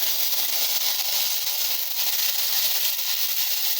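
Onion, green chili and curry leaves fry in hot oil in a pan, giving a continuous, even sizzling hiss close up with no voices over it.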